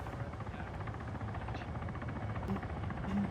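A helicopter flies in a military video game, its steady rotor drone running continuously at moderate level from start to finish, with no one speaking over it.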